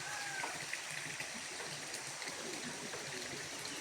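A small creek flows at a campsite in Tanay, Rizal, as a faint, even wash of running water that continues without a break and with no voices.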